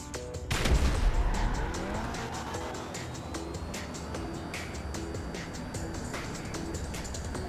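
Engines of the Ocelot Virtue racing the Omnis EGT and 300R in GTA Online, with a loud surge near the start and then a steady, continuous roar of cars driving, with tire squeal and skidding.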